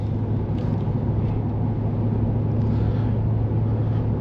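Inside a 2025 Ford F-350 Platinum Tremor pickup with a 7.3L V8 and off-road tires, a steady, loud low drone of engine, road and tire noise carries on without a break while the truck cruises at speed.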